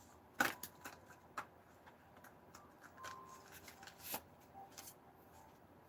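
Tarot cards being shuffled, soft papery riffles and taps with a few sharper snaps, close but quiet, irregular rhythm with no talking.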